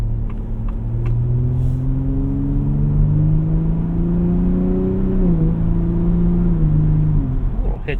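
A 2025 Ford F-150 Raptor accelerating from inside the cab, its engine note climbing steadily as it pulls, then dipping and recovering around a gear shift before easing off, loud and continuous with a few faint clicks early on.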